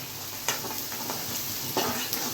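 Steady broadband sizzle of onions frying in hot tempering oil for dal fry, with a few sharp stirring scrapes near the start and end; close and fairly loud, no talking.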